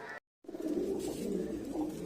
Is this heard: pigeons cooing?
yes